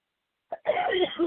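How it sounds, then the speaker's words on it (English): A single short cough-like burst from one person, followed by a longer harsher throat sound, close and fairly quiet after a moment of silence. "I'm sorry, I'm coughing so much"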